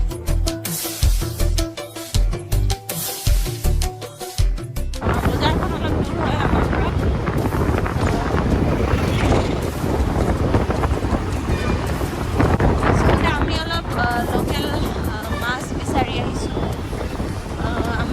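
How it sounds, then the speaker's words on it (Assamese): Strong, cold wind roars steadily across an outdoor microphone while travelling in Bangalore, following a few seconds of rhythmic music; the buffeting is loud and continuous. "বিৰাটে বতাহ মাৰিছে, ঠাণ্ডা লাগিছে"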